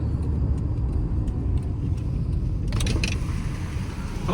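A Hyundai Verna diesel or Honda Accord i-VTEC car accelerates with a steady, close low engine rumble that holds throughout, with a few brief light clicks near the end; no one speaks.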